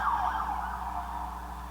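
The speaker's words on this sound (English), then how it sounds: "there's a siren going by." A vehicle siren wails somewhere outside, its pitch sweeping up and down at moderate distance, steady and fairly loud against a low background hum.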